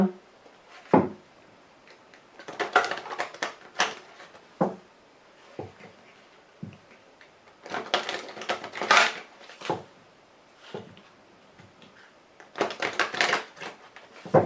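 Lenormand fortune-telling cards being shuffled by hand, bursts of papery riffling and flicking that come and go in clusters with brief taps between them, close and fairly loud.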